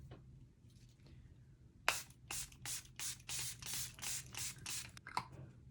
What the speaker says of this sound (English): Okay, last step, setting spray.